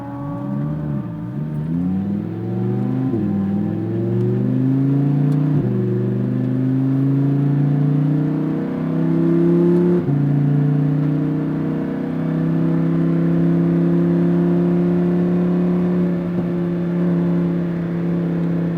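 Lamborghini Huracan on a race track, engine revving up through several gear changes with rising tones that step down at each shift, steady and fairly close, with no voices.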